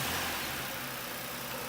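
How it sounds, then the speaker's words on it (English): A car engine running steadily right after startup, fitted with a new silver intake and filter, producing a loud, continuous low rumble with no talk over it. "So now I can finally start it up."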